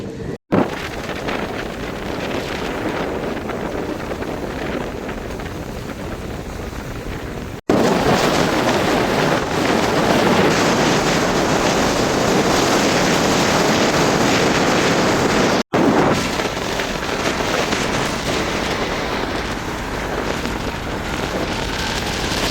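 Wind buffets the microphone at Punkudutivu harbour as boats move through the water, a steady loud rush with engine and water noise throughout, briefly cut twice.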